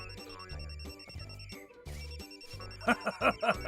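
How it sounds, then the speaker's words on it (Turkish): A phone rings in repeated musical ringtone bursts at moderate volume in a children's cartoon. Short voiced sounds break in near the end. "Babamın telefonu çalıyor."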